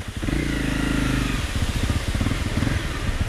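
Heavy motorcycle engine running close by on a road in Vietnam, a steady low rumble that shifts into a choppier, pulsing throb, with no talk over it.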